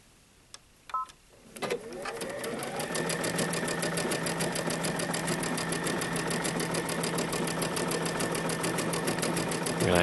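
An Ellisimo sewing machine stitching a seam at a quarter-inch allowance, starting after a few faint clicks and then running as a close, steady rapid needle rhythm for most of the clip.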